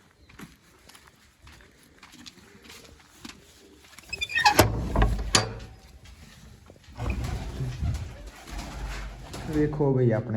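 Pigeons coo softly in the background, followed by a burst of flapping and shuffling close by, with a person speaking near the end.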